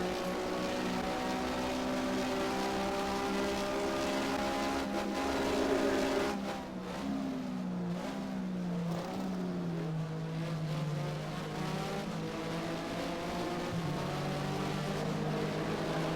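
A Porsche Mobil 1 Super Cup race car in the racing game Race07 at Catalunya, its engine droning steadily and then dropping in pitch through gear shifts as it accelerates, heard alone.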